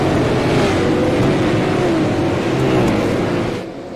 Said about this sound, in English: We're about to see 35 machines go green flag racing.